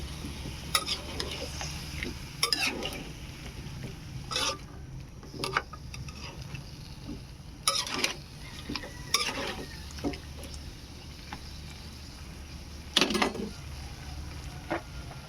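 Repeated scraping and clinking of a utensil stirring sautéed squash in a pot, in irregular bursts over a soft sizzling background.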